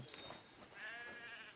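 Goats bleat on Golem Island in the video game Ghost Recon Breakpoint, a faint, wavering animal call heard at low volume against quiet game ambience.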